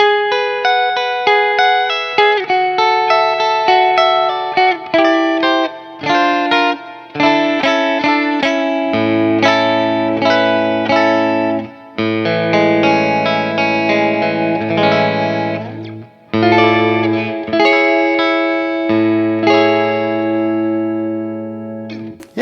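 Danelectro 59 Triple Divine electric guitar playing bright, chiming arpeggiated notes with clean ringing tones and some reverb, loud and continuous with brief pauses between phrases.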